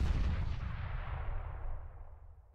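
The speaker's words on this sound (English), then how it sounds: "I'm throwing a grenade." A grenade goes off in the shooter game CS:GO, a single loud, deep boom that rumbles and fades away over a couple of seconds, heard alone without voices.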